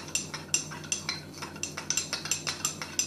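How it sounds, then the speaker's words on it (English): Herbal tea being whisked briskly in a cup or pot, a quick run of light, rhythmic clinking and tapping strokes repeating steadily and close by, with no voices. "So you really do need to whisk it, I suppose."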